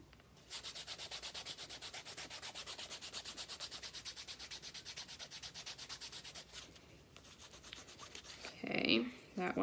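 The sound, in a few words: canvas rubbing down a leather edge to burnish it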